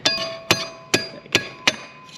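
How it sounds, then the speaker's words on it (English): A metal punch taps a brake pad pin on a Husqvarna Vitpilen 701 motorcycle, five sharp, ringing metallic taps evenly spaced about half a second apart, close and clear with no talk. "You would use a punch just to gently tap this pin to the left."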